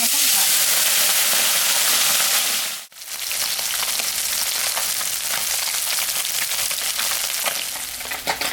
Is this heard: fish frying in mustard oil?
yes